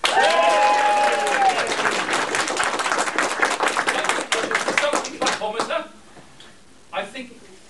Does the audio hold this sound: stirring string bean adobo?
no